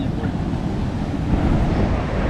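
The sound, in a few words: ocean waves at Flinders Beach near high tide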